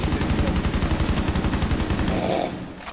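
Sustained automatic gunfire in Rainbow Six Siege, a rapid, steady burst of close shots hammering for over two seconds before cutting off into quieter background noise.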